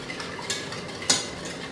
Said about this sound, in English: So just using the whisk.